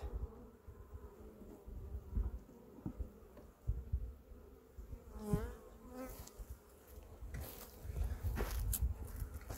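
Honeybees buzz around a beehive, a low, continuous hum with sharper passes as individual bees fly close, faint overall, along with occasional rustling and handling noises.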